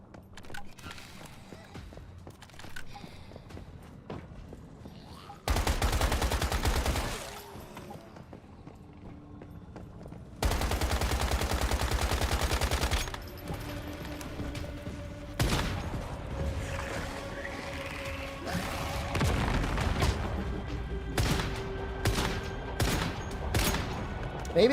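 Bursts of gunfire in the Monster Hunter video game, loud broadband blasts in separate volleys over a busy game soundscape with clopping footfalls and mechanical effects, no talk.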